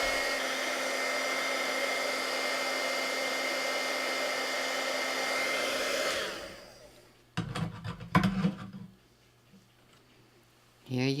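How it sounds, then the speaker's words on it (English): A heat tool blows hot air over gold embossing powder on small cardstock flowers, a loud steady whir for about six seconds before switching off, followed by a few handling clatters and quiet. "So let's heat these little flowers."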